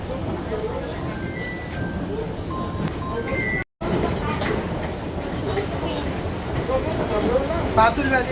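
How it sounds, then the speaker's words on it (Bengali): A Lalgola passenger train pulls into platform 1 of a local railway station with a steady, loud rumble and clatter of wagons, while people talk nearby. "1 নম্বর প্ল্যাটফর্মে একটি লালগোলা প্যাসেঞ্জার ট্রেন পৌঁছালো"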